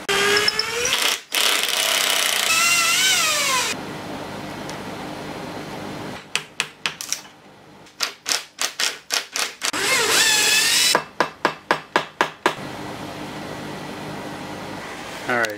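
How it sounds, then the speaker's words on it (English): A power drill bores a hole through a flat steel bar for a rusted seat bolt repair: long, loud, whining runs that rise and fall, separated by bursts of short rhythmic pulses and brief pauses. "We're gonna drill a hole in the flat bar"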